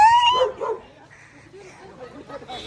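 A dog gives a quick burst of sharp barks and yips, then quieter whimpering noises follow against a low background.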